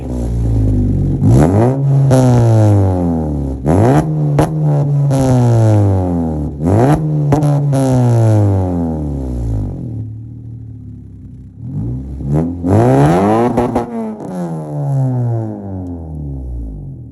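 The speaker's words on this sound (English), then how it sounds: "Go ahead and turn it on and give you guys a quick rev so you can hear how it sounds." A 2014 Honda Civic Si with a Tsudo downpipe and exhaust revs repeatedly, each blip climbing and falling in a deep, loud exhaust note, with a brief lull near idle before a final strong rev; no one talks.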